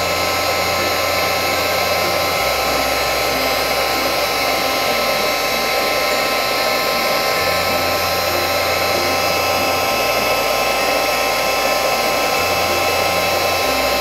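A heat gun blows hot air steadily over a card coated with glycerin, a loud, close, unbroken whooshing roar with a slight pulsing hum in its low end.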